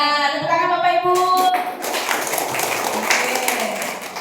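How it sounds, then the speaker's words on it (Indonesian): Clapping breaks out from an audience of village residents at a regional PKK family-welfare outreach competition in Melawi, Indonesia, rising over the end of a speaking voice and carrying on as loose, moderately loud applause. "Tepuk tangan Bapak Ibu."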